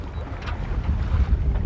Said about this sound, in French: Tout le monde se remet aux manœuvres, tandis que le vent gonfle les voiles.